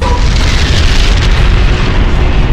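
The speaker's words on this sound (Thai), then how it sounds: "ปาไปโดนถังออกซิเจนเกิดระเบิด" A loud, sustained roaring blast with heavy low rumble from an oxygen tank exploding in a hospital ward drill, heard up close, steady throughout.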